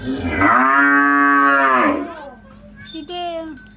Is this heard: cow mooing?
yes